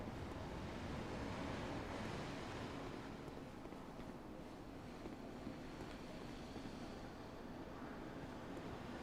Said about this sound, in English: Gorgeous water.